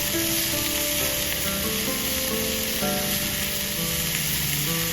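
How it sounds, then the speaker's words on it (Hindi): Onion, tomato and green chilli frying lightly in a pan for an omelette, a dense and constant close sizzle running loud and even throughout, with no voices. "प्याज, टमाटर, हरी मिर्च हल्का सा फ्राई करेंगे।"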